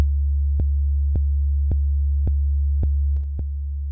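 A steady test tone sounds alone with a regular series of short clicks, then near the end the level drops as two copies of the tone cancel from a phase offset, leaving it noticeably thinner.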